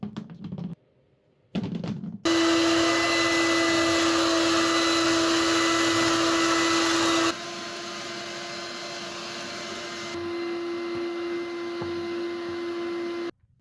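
A vacuum cleaner runs in the basement of an 1830s farmhouse, starting with brief bursts and then roaring loudly with a steady high whine, dropping in pitch and volume partway through before cutting off.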